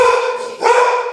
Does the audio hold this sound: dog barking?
yes